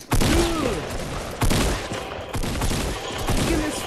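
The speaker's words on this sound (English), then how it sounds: "I'm getting fucking shot at everywhere" Gunfire in Fortnite: sharp, loud shots in scattered bursts, some close together, with faint tonal whooshes between them.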